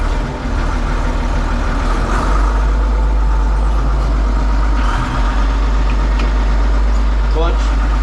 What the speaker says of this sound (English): These 70 series have a real distinct whine to them with power shift